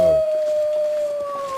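A long, steady, loud wolf howl in the video game The Long Dark, holding one drawn-out tone, with a faint high harmonic above it and no voices.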